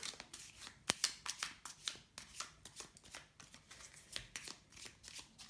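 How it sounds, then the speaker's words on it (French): Tarot cards are shuffled by hand in a quiet room, a series of soft, quick riffling and slapping bursts at an uneven rhythm, close and fairly faint. "je vais bien mélanger les cartes"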